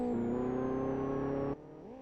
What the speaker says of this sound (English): clutch in and full revs there for a few seconds. Yeah, spooling up the turbo.